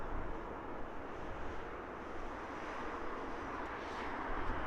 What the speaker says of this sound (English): Awesome arrival from British Airways.